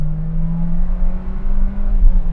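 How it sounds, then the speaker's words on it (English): A Toyota sports car engine revs, a loud, steady, close-up drone that holds a fairly even pitch with a slight rise and no voices over it. "What I'm willing to do though is rev this engine out."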